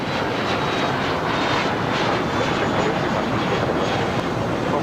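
Airplane jet engines roar steadily at LAX in a loud, unbroken wash of engine noise with no distinct onset, and no voices are heard.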